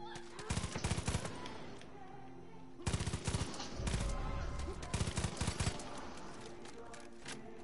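Bursts of automatic gunfire in Far Cry 5, rapid rattling volleys in several clusters over a steady game background, loud and close with no talk over them.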